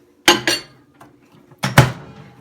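Clattering knocks and clunks as a container of bone broth goes into a microwave, two quick bumps, a faint tap, then two louder knocks near the end, close and without talk.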